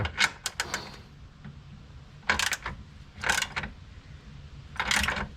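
Four short bursts of rapid metallic ratcheting come from a wrench tightening bolts in a crisscross pattern on a Porsche 911 rear suspension. The bursts are loud and close, separated by quiet pauses.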